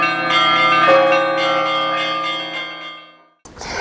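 New church bells of the Brest Fortress ring out in sustained, resonant tolls with long overlapping hums, loud and clear, then cut off abruptly near the end.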